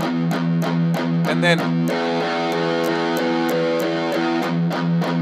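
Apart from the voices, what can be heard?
electric guitar with distortion effect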